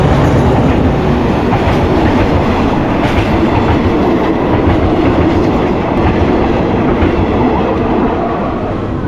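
A train rolls past a level crossing with barriers in Thailand, loud and close, a dense continuous rumble with rhythmic clickety-clack from the wheels over the whole stretch.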